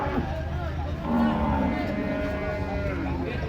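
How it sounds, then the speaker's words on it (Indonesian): Startled cattle at a market after coming down from a truck, with a low moo rising above a noisy crowd and people talking throughout. "Mungkin sapinya kaget ini di pasar turun dari truk"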